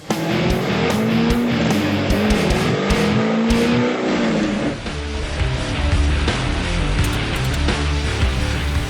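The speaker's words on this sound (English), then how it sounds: "A baseline dyno runs in our Z06, which is equipped with a full exhaust system, a cold air intake and a street tune" A Corvette Z06 with full exhaust, cold air intake and street tune roars on a chassis dyno for a baseline pull, loud and sustained, the engine note climbing steadily before settling into a lower rumble.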